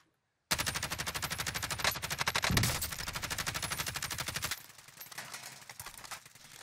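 A Kilo 141 rifle in Call of Duty Warzone fires a long, rapid, evenly spaced automatic burst, loud and close, then cuts off to quieter background game noise.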